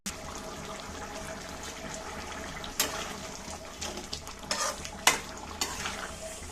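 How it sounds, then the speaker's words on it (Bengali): Water goes into a pan of snakehead fish and potato curry, a steady hiss of cooking with a few sharper splashing bursts near the end, close and moderately loud with no talking. "এবার আমি ঝোলের জল দেবো"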